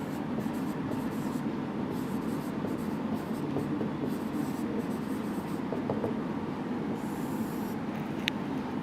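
Pen writing out an example on paper: a steady scratch of strokes sits low under a constant background hum, with no talking.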